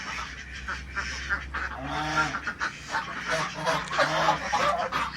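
Swan geese offered for sale in Pune honk loudly and close, in a string of repeated, brassy calls that overlap one another.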